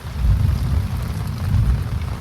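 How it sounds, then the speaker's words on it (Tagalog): Heavy rain pours steadily over a campsite while deep, low thunder rumbles and swells through the downpour, loud and close with no one talking. "Lakas ng kulog."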